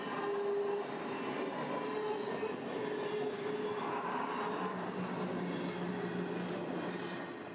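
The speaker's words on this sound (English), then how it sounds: "This allows some trains to operate through Boston Bar without stopping to change crews, including this eastbound stack train." A CN eastbound stack train passes through Boston Bar in a canyon, its cars rumbling steadily with tonal wheel squeal and rail hum for several seconds, no talking.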